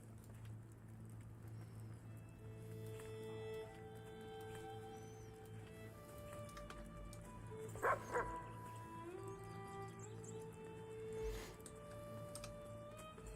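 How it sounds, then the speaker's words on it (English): A puppy in the video game Enshrouded giving a few short yips and a bark, mostly faint over steady background game music, with one louder cluster of yelps near the middle. "Gotta say hi to the puppy."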